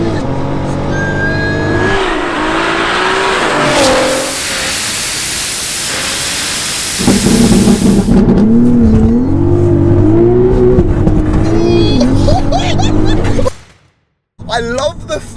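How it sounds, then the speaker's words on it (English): 1187 bhp VW Golf R spinning its wheels in third gear, a loud sustained engine roar with rising and falling pitch and heavy wind rush, close by, with voices talking over it before an abrupt cut. "That's a lot of power. Wheel spin."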